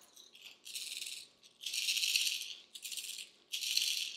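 A Jackal TN70 lipless crankbait fishing lure is shaken in four bright, rattling bursts separated by short pauses, close and loud with no talking.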